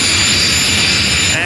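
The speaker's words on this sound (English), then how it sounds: "Mike Evergenes, he's been racing jet cars for 20 years." A jet-powered drag racing car's engine roars loud and steady at a drag strip, a dense continuous blast with a high whine on top.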